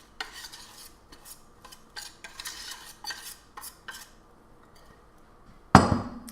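Cornbread batter is scraped from a bowl into a pan greased with Kerrygold Irish butter, giving a quiet run of irregular clinks and scrapes from a utensil on the bowl, ending in a louder knock.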